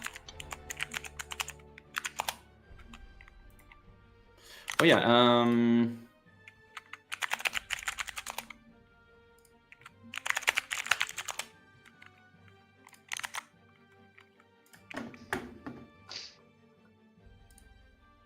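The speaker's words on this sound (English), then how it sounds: "I'm busy typing to all the teams now, the IDs and..." Quick bursts of clattering computer-keyboard typing during an online esports community cup semi-final broadcast, arriving in separate runs with pauses between, close to the microphone, as people talk over and between the keystrokes.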